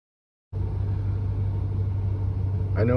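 A Gen 6 454 big-block V8 idles not fully warmed up, a steady loud low rumble that starts abruptly after a half-second of silence and runs evenly, with a brief higher clatter near the end.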